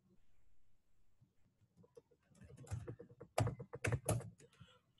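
Typing on a computer keyboard, close and uneven, with sparse soft keystrokes at first building into quicker, louder bursts of clacks near the end, and no talk over it.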